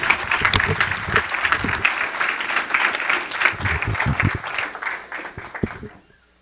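A church congregation claps for the Lord during a Spanish-language worship service, a dense, steady burst of hand claps lasting several seconds before fading out abruptly at the end.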